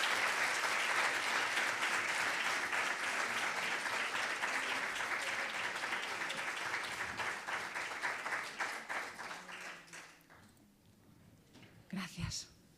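A lecture audience applauds loudly with dense, sustained clapping that gradually thins out and fades, leaving a few scattered claps and some low voices at the end.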